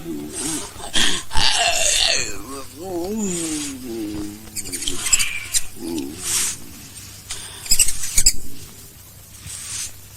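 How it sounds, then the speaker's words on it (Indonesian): Rats squeak in a 1993 Indonesian comedy film scene: a run of shrill, wavering squeaks and chirps with scuffling patter spread across about ten seconds, loud and close, with brief vocal sounds mixed in. "aduh, tikus gua"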